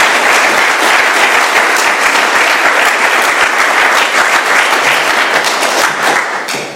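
A room full of people at an AA meeting in Doylestown, Pennsylvania, applauds steadily and loudly for the whole stretch, dense clapping that only tapers off slightly at the very end.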